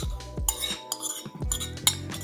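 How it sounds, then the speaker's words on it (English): Tuna salad with peppers, parsley and red onion being stirred together in a bowl, with repeated close clinks and scrapes of a utensil against the dish in an irregular rhythm. "now we got our tuna, peppers, parsley, and red onion. Just gonna give it a nice mix"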